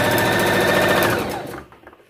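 A sewing machine runs in a fast, even rattling whir while joining fabric pieces with a 1.5-inch seam, close and loud, then slows and stops near the end.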